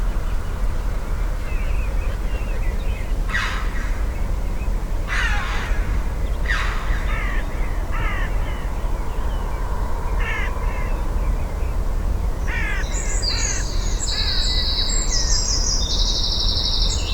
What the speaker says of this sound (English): we'll try and keep the birds in and the wing beats